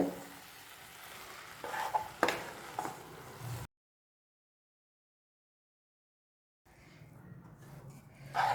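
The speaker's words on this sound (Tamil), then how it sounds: "சாதத்துக்கு தேவையான உப்பு. நல்லா கிளறி விடுங்க. அடுப்பை லோ ஃப்ளேமில் வச்சுக்கோங்க." Cabbage rice is stirred with salt in a pan over a low flame, giving a faint soft sizzle with a few spoon scrapes and taps, a long silent gap, then quiet frying again.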